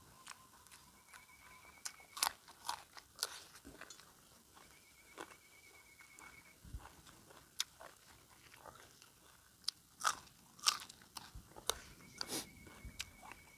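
Close, crunchy chewing of sticky, bitter Isan larb with sweet liver, eaten with fresh dill, lettuce and chilies: irregular crisp bites and mastication clicks at a low level, with no talking.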